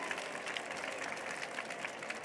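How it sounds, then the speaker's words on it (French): Audience at a departmental children's reading competition final applauds a young reader, a dense, even wash of many hands clapping that holds steady throughout, heard from a distance and fairly faint. "On peut l'applaudir également."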